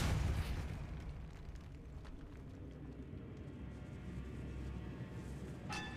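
A Depulso spell is cast in Hogwarts Legacy inside a decayed catacomb, giving a loud booming burst at the start that decays into a low rumbling ambience, with a brief bright shimmer near the end.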